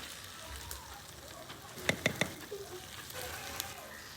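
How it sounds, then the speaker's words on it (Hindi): A carrot and potato curry being stirred in a pan, with a steady sizzle under faint background talk and a quick cluster of three sharp spoon knocks against the pan midway. "और इसको अच्छे से मिक्स कर दूंगी।"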